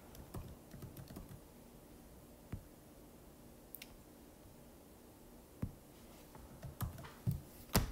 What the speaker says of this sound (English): you're going to go ahead and type 8